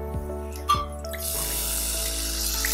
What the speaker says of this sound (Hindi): उसमें हम पानी डाल देते हैं।